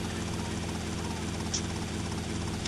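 A helicopter in the PS2 game GTA Vice City whirs steadily with a constant rotor and engine drone, moderately loud and unbroken, with no one speaking.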